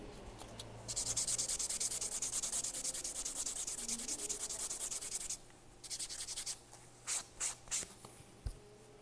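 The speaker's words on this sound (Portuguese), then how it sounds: "E vou passar a lixa polidora." A polishing file buffs fingernails in a nail maintenance session, producing a continuous close, hissy rubbing that then breaks into several short, separate strokes.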